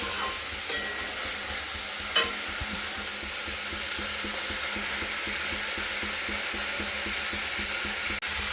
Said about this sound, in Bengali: এই দেখো কষতে লেগেছি, তোমার দিয়েছি সর্ষে বাটা, আদা বাটা, একটু জিরে, হলুদ আর একটু চিনি দিয়ে দিয়েছি